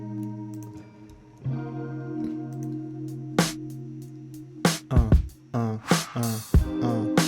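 Electronic tones and chords for a funk soul beat, run through parallel delay, reverb, saturation and clipping effects: sustained notes giving way to sharp distorted hits with echoing tails, several clipped bursts toward the end.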